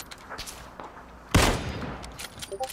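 A single sharp gunshot crack in the battle royale game PUBG, set against quiet game ambience and faint shuffling, with the report trailing off briefly afterward.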